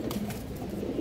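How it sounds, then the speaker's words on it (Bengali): A pair of black Musaldom pigeons cooing nearby, soft low throaty coos repeating over a faint steady background. "কালো মুসলদম কবুতর আছে, বুটফুটের কবুতর দর্শক, একদম পুরান লাইনের কবুতর।"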